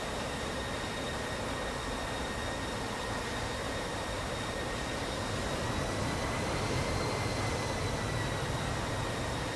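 A steady, broad jet roar from an F-16 in DCS World, constant and unbroken with a faint high whine running through it and no talk.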